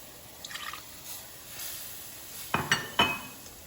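Half and half is poured a little at a time into a roux for mac and cheese, giving a faint wet sizzle and soft liquid sounds, then a few clear clinks and scrapes of a utensil stirring against the pot.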